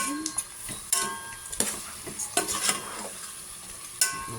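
Pork caldereta is stirred in a pot, with a soft sizzle underneath and intermittent clinks and scrapes of a utensil against metal, close and moderately loud, and no speech.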